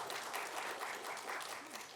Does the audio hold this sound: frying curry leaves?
no